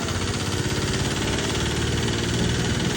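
A Giriraj nano tractor engine idles nearby, a loud, steady, even chugging throb that holds without change throughout.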